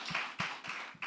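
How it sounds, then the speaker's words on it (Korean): Applause from a young adults' church worship congregation, heard as a few distinct, fairly close claps in an uneven rhythm over about a second. "영광의 박수."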